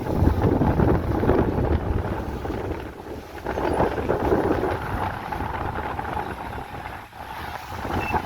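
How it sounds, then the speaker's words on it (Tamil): Strong coastal wind during a sea surge roars steadily and loudly, gusting in waves with a broad rushing hiss throughout. "கடுமையான காற்று வீசிக்கொண்டு"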